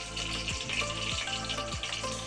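Chutney stirred into hot oil in a pan for doni biryani crackles and sizzles steadily up close, with a few soft scraping strokes of stirring passing through the frying noise.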